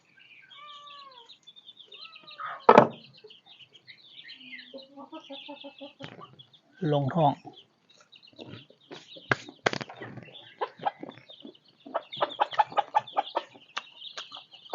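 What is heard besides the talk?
chickens clucking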